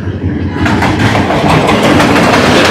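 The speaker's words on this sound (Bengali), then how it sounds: "এই যে দেখুন, ট্রেন যাচ্ছে" A train rumbles past nearby with a steady low roar and faint rhythmic clatter, loud and continuous throughout, with rain-like hiss on top.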